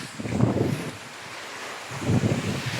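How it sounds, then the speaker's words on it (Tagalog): Two big waves surge and crash onto the shore at Boulder Bay a couple of seconds apart, with a low rushing hiss of wind and surf between them. "Malaki na hampas ng mga alon."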